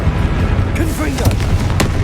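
In the PS5 game Hogwarts Legacy, a Confringo blasting spell erupts with a heavy boom and crackling impacts amid a busy combat mix, while a voice calls out in the middle.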